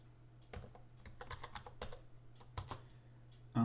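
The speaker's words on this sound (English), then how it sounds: "And we'll put a secure password in." Fingers type a password on a computer keyboard, a quick burst of light, close clicking keystrokes in uneven rhythm over a low steady hum, ending with a single heavier key press.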